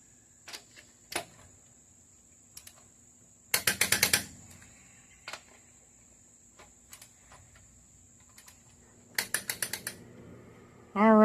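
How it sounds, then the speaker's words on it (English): A ratchet works the lug nuts on a 2002 GMC Sierra. Short bursts of quick clicking stand out above a quiet background, with scattered taps between them, all close by. "now all that's left to do is torque these lug nuts"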